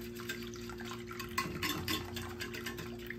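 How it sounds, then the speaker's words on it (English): A whisk stirs a homemade jello mixture in a pan with quick, irregular scraping and sloshing strokes. A steady background hum sits under the stirring, and the whisking is close and moderately quiet. "as you stir it in, you just whisk it to break up the pieces that are already in here"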